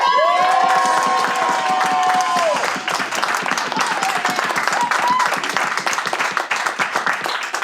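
Dense, steady clapping from an improv comedy show audience, with a few loud cheers and shouts early on, continuing evenly to the end.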